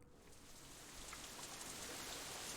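Rain beginning to fall in a visual novel game scene, a steady broadband hiss that swells slightly as it goes on, with scattered droplet ticks and no voices.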